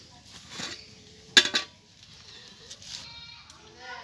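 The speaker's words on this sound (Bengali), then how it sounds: "বন্ধুরা, ভাতটা হয়ে গেছে, দেখুন নামিয়ে নিচ্ছি।" A metal pot of cooked rice is lifted off a home stove with one sharp clank and some lighter scraping, followed by quieter kitchen handling.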